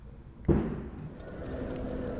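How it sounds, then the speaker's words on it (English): A single muffled boom from fireworks going off outside on Christmas Eve, heard from indoors, with a low rumble trailing after the thump. "Christmas Eve and fireworks are going off."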